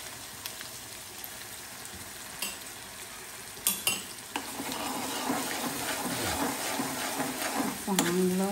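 Prawns sautéing in a pan, with a steady close sizzle and occasional stirring clatter that grows busier toward the end, under a faint background voice.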